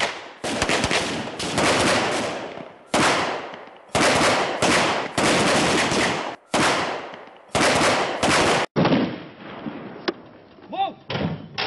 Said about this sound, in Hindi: फायर इतना कि दुश्मन सिर उठाकर फायर भी न कर पाए।